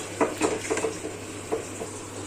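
Meat going into a pot of fried spice masala, a series of soft clattering thuds and stirring scrapes with a low sizzle beneath, close and fairly quiet.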